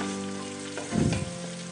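Onion and tomato paste sauce hits the pan on a gas stove and sizzles, a loud frying burst swelling midway over a steady low hum, with no voices.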